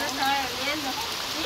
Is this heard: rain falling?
yes